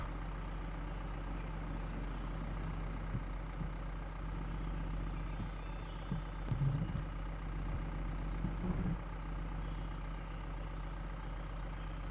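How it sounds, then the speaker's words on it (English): A vehicle engine left idling in Farming Simulator 22 hums as a steady low drone throughout, with a few faint mechanical clunks and hisses on top. "I will leave the engine running this time because I'm going to be coming back and getting the rest of it"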